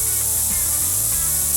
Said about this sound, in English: so we'll put some scent spray on.